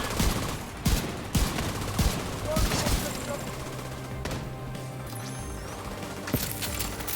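Shotguns fire in The Division 2, with a rapid, irregular volley of loud booming shots across the whole stretch. The blasts come in bunches over a dense, noisy battle backdrop.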